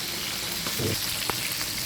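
Chicken pieces frying in hot oil for a biryani, a steady, close sizzle running throughout with a couple of brief clinks or stirring knocks, no voices.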